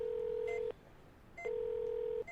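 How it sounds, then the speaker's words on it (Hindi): A steady telephone tone sounds twice in long even pulses with a short gap between, clear and electronic, no voices. "उसने सबसे पहले अपने पापा को फोन मिलाया।"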